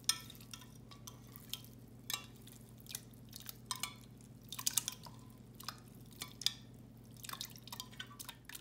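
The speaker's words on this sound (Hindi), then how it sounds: "इसमें ये जेली भी डाल लेते हैं।" Jelly pieces dropped into a chilled sabudana (sago) summer drink, giving a series of small, close drips and light clinks scattered across the clip, over a steady low kitchen hum with no talk.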